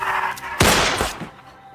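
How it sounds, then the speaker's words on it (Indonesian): A single loud pistol gunshot rings out in a tense Korean drama scene, a sharp broadband crack followed by a brief decaying tail over a low background score. "Setelah terkena tembakan, Aislinn yang dilihat oleh Jung-min perlahan"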